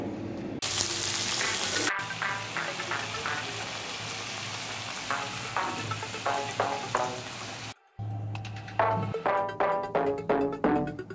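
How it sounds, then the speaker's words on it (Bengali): Whole garam masala and bay leaves sputter in hot oil, a loud sizzle broken by repeated sharp crackles and pops in quick bursts, up close, with a short cut partway through. "আর দেবো একটু গরম মশলা, গোটা গরম মশলা ফোড়নে"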